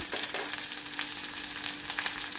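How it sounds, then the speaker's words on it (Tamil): Sliced okra sautéing in a hot pan, a steady close sizzle with faint stirring scrapes and crackles throughout, no voices. "வெண்டைக்காய் போட்டு நல்லா வணக்கிக்கலாங்க பிசு பிசுப்பு போகிற வரைக்கும் நல்லா வெண்டைக்காய் வணக்கிக்கலாம்"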